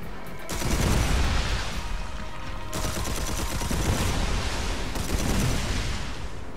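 Sustained automatic gunfire in the video game Red Faction Armageddon, loud and close, a dense continuous roar of shots in long bursts separated by brief breaks.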